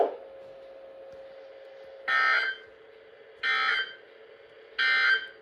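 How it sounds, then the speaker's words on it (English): A NOAA Weather Radio warning alarm tone sounds in three loud, steady buzzing bursts of about half a second each, evenly spaced over a faint continuous broadcast hum, with no voices. "This has been a test of the NOAA Weather Radio public warning alarm system."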